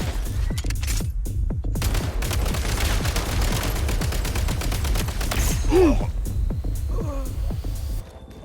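Rapid bursts of game gunfire in Genshin Impact fill most of the stretch, loud and continuous with a few whooshing effects late on, then cut off abruptly near the end.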